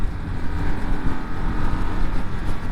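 A 2025 Indian Scout 101 motorcycle ridden in wet mode on a wet day, its engine droning loudly and steadily amid wind and road noise with no clear throttle spike.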